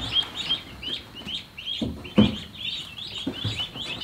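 Young chicks peep in quick, high chirps that repeat throughout, with a few soft low thumps and shuffling in the background.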